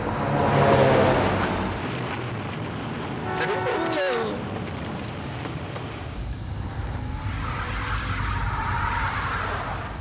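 Cars sit in a road traffic jam, a low rumbling wash of engines and passing traffic with a brief horn-like tone, close and continuous, under faint background noise.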